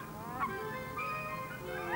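Aleutian geese honk in a flock, several overlapping calls sounding steadily through two seconds, moderately near, with no voices.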